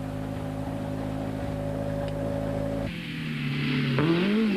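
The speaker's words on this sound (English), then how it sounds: "Yanni pulls the car off the rally route in search of water and hopeful of getting the Golf to his service crew." A Volkswagen Golf rally car in a 1993 rally has its engine running steadily and close by, a low droning hum that shifts in tone partway through and then rises as the engine revs up.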